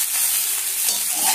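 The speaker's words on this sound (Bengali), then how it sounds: "সবজিগুলো খুব সুন্দর একটা মানে ভাজা হয়েছে" Mixed vegetables for Bengali shukto stir-fry in a pan, giving a steady close hiss of sizzling oil with soft scraping stirs throughout and no talk.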